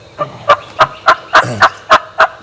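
Osceola wild turkeys gobble repeatedly during a hunt, about eight loud, evenly spaced gobbling bursts at moderate distance, with no talking over them.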